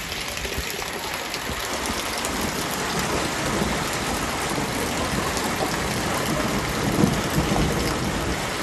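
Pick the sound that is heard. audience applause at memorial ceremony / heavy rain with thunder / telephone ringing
heavy rain with thunder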